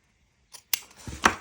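Scissors snip through paper for a handmade journal cover, a couple of short crisp cuts with a rustle of paper between them, close and quiet.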